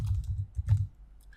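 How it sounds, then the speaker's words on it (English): Quick bursts of keystrokes on a computer keyboard, close and fairly soft, a short run of typing clicks with brief pauses and no speech. "you just click into it and you can start typing"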